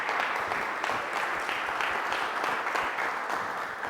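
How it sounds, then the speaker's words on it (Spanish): A conference audience breaks into applause, a steady, dense wash of many hands clapping that fills the whole stretch without letting up, with no voices heard over it. "denle un aplauso a César."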